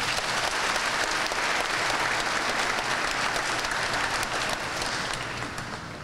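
A gathered crowd applauds in a continuous, dense wash of clapping that holds steady throughout and eases slightly toward the close.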